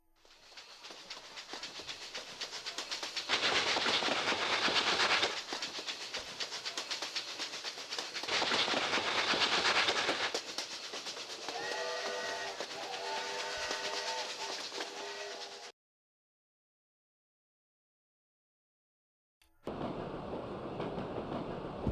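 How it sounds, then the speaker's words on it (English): A train runs on rails in the video game Echo Night, a loud rumbling roll with clattering surges and a tonal horn-like whine, cutting out abruptly to silence before resuming. "Oh, we're on the train now."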